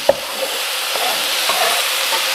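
Onions and garlic sautéing in a pan for enchiladas, a close, continuous sizzling hiss with a sharp clack of a utensil at the start and soft stirring scrapes.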